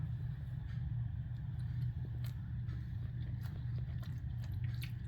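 Chewing a bite of roasted tomato from a keto dish with zucchini noodles and parmesan, a steady close mouth sound with soft crunchy bites over a constant low rumble.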